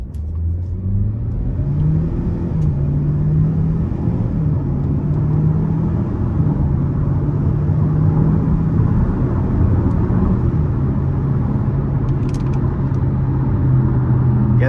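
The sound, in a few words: 2020 GMC Terrain 1.5T accelerating with its 9-speed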